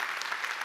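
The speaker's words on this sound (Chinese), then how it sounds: "需要给东京的所有的一些朋友一个掌声来出席今天的会议" Applause from a conference audience in Tokyo, a dense, steady patter of many hands clapping together, briefly and at an even level.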